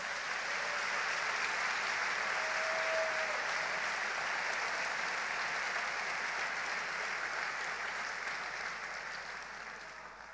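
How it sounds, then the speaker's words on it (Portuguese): A congregation at a church sermon claps for God, a steady, dense wash of applause that holds evenly for most of the stretch and thins slightly toward the end, with no talk over it. "Aplaude bem forte o Senhor."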